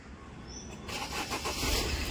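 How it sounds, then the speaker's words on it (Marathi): A car engine starts up near a beach after a quiet moment, catching partway through and rising into a low, steady idle rumble. "या गाडी आता चालू झालेली आहे."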